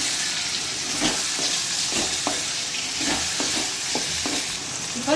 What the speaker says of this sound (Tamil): இதை நல்லா கிளறி விட்டுக்கலாம் தக்காளி நல்லா வதங்கி வரட்டும்